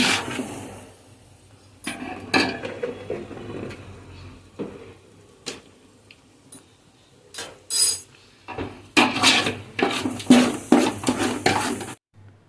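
A spoon scrapes and clatters against a pan while a spice paste with jeera and dhania powder is stirred for crab curry, irregular metallic knocks and scrapes in bursts, with a busier flurry toward the end.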